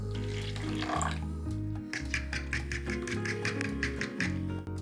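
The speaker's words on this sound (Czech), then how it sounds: "Přidáme vodu." About 220 ml of water is poured into a container holding two eggs, a close splashing pour lasting several seconds over soft background music.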